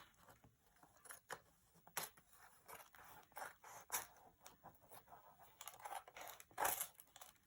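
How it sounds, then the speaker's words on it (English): Large scissors snip through paper in a glue book, a quiet series of close irregular cuts and crinkles with no talk. "Actually, let's get my bigger scissors."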